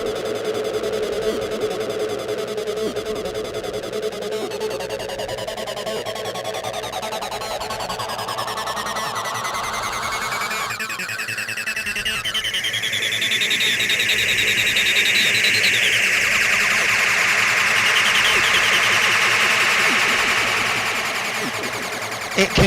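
Layered acid synth lines from a Roland VT-3 setup play together continuously, with a resonant filter sweeping upward into a bright, dense peak near the end, alone and without talk.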